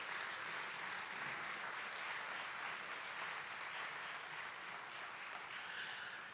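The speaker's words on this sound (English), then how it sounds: "Please give her a big round of applause." Audience at a spring high school band concert applauding steadily for several seconds, a dense even patter of many hands filling the hall with no voices over it.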